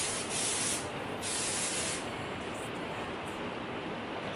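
Steady, continuous hiss of Big Sexy Hair Spray and Play hairspray from an aerosol can, held close and loud, running without a break the whole time.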